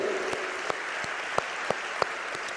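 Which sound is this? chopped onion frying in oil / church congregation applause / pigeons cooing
church congregation applause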